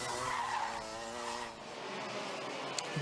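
TKM Clubman racing karts at a superprix race, a continuous buzzing engine drone with tyre scrub passing close by, steady and fairly loud throughout.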